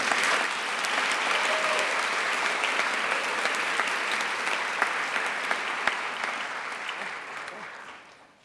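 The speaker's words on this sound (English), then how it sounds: "Please give another round of applause to Molly" Sustained applause from an audience at a 2022 youth awards ceremony, a dense, even wash of many hands clapping for about eight seconds before fading at the end.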